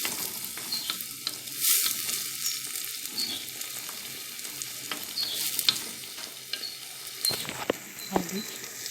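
Onions fry in a pot for a barley harira soup, crackling and sizzling at a moderate level with sporadic stirring scrapes and small pops.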